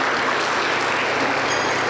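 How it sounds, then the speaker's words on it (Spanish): Steady applause from a church congregation during a service in Junín, Peru, a dense even wash of clapping with no clear gaps, filling the room at a constant level. "Aplauso para el Señor Jesús."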